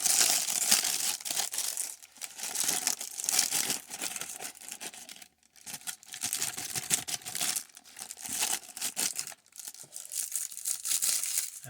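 Plastic baggies holding Marvel Legends figure parts being torn open and handled, a close, busy run of crinkling and crumpling that goes on for several seconds, with two brief quiet pauses between bursts.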